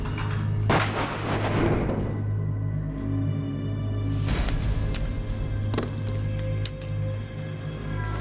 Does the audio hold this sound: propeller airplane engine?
no